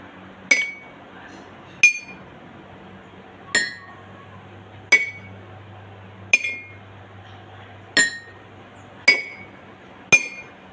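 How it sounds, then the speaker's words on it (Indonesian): Glass tumblers holding different amounts of water are struck one at a time: eight bright, ringing clinks at fairly even intervals, each decaying quickly, close and clear over a faint low hum. "gelas yang terisi full air akan menghasilkan bunyi yang lemah"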